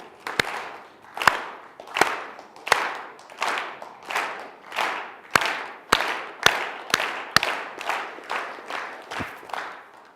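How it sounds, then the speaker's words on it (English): An audience at an ICSA Ireland conference claps hands together in a steady, slow unison rhythm, roughly sixteen sharp claps over ten seconds, each ringing briefly in the hall, with no talking over them. "I'm just going to start clapping our hands"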